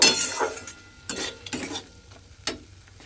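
A utensil stirs eggplant and green chilli in a hot pan, giving soft scraping strokes over a gentle sizzle, with several distinct stirring passes up close.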